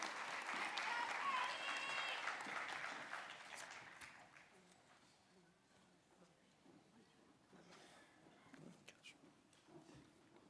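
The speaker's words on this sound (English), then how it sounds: "Round of applause for them again as they exit the stage." Applause at a graduation ceremony as graduates leave the stage, a loud clatter of clapping that fades away after a few seconds, leaving quieter room murmur and faint voices.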